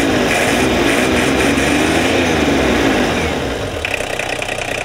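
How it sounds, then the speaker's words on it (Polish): A VW LT28 van's 2.4-litre inline six-cylinder diesel is revved hard, with a loud, steady, rough roar throughout that eases slightly near the end, close up with no talking. "Piękne brzmienie rzędowej szóstki, 2-4 diesel."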